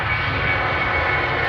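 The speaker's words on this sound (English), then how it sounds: "don't let this Ryanair go. It's making a racket." A Ryanair airliner at Manchester Airport gives off a continuous, loud engine roar, steady and unbroken throughout with no talking.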